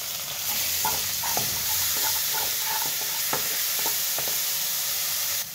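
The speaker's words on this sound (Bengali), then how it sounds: "এবার এই কড়াই দিব, তেল দিলাম, এই পেঁয়াজ, জিরা, হলুদ আর লবণ" Onion, cumin, turmeric and salt frying in oil in a kadai give a steady, close sizzle, with repeated scraping stir strokes and small clinks running throughout; no one speaks.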